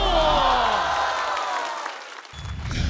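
A stand-up comedy audience applauds as a comedian is called to the stage, with a dense wash of clapping that begins loud and fades, overlaid by tonal music or vocal sounds.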